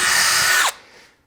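A power drill whines loudly and steadily as it bores a small hole in aluminum, then spins down and stops abruptly, leaving a faint fading hum.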